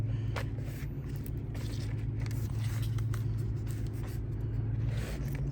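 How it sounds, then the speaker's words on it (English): Steady road traffic rumbles nearby as cars pass continuously, a dense low engine and tyre noise with occasional scrapes, heard outdoors at a garden during palm repotting. "Sorry about the traffic."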